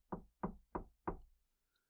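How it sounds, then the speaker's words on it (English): Four evenly spaced, firm knocks on a door, heard close and alone as a sound effect, with silence after. "before the knock"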